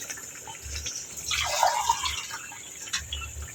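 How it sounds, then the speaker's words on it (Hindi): A short splashing pour of three glasses of water into a cooking pot midway, over a quiet background with a few faint drips. "ये 3 गिलास पानी के हमने शामिल कर दिए"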